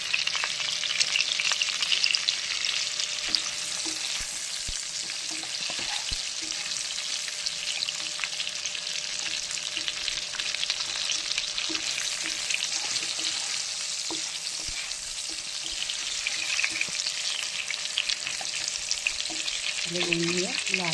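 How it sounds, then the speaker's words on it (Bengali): Potatoes frying in a pan until browned, a steady dense crackling sizzle throughout with occasional stirring scrapes and light clinks, close and fairly loud with no talking. "লাল করে আমি আলুটাকে ভেজে নিই"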